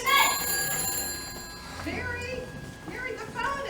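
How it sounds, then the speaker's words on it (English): Telephone bell ringing on stage during a theatrical adaptation of a Christmas drama, a repeated bright metallic ring heard close and fairly loud, with actors speaking over and around it. "Mary, the phone, it's Sam"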